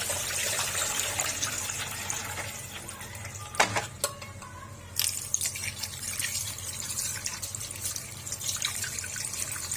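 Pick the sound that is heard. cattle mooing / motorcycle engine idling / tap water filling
tap water filling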